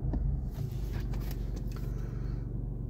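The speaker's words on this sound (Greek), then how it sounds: "Λοιπόν, ξεκινάμε το αυτοκίνητο" A 2016 BMW 1 Series engine runs with a steady low, throbbing rumble near the microphone, fairly quiet and even throughout, with a few faint clicks and scrapes and no talking.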